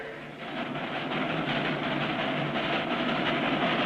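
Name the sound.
small steam train running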